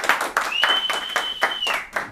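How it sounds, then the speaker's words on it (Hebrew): Rhythmic applause from an audience greeting a speaker at a live talk, with sharp, evenly spaced claps about four per second and a steady high whistle running through the middle. "קבלי המחאת כפיים"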